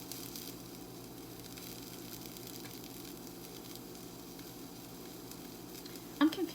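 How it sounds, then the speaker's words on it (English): Ingredients sauté in a pan for chicken, bacon and mozzarella ravioli, giving a steady, even sizzle throughout, with a brief clatter of utensil or pan near the end and no talking. "This is still sauteing, so it's okay."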